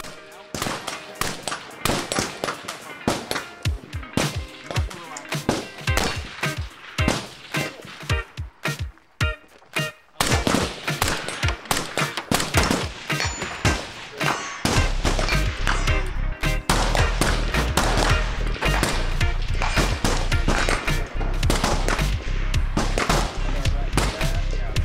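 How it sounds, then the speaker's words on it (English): Gunfire at a training range, shooting off and around barricades and prop objects: rapid bursts of loud close shots with echoes, dense strings of rounds continuing throughout. "basically shooting off and around both barricades as well as just random objects"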